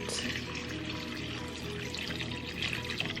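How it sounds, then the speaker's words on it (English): Water added from a tap into a pot of cut potatoes, a continuous rushing splash at moderate level lasting throughout, with no voices over it. "We're just going to add some water into these and get those started"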